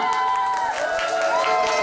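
Cheering and clapping from a crowd of guests at an engagement party, a steady lively din of applause and shouts, fairly close and continuous throughout.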